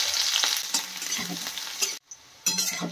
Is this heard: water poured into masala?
no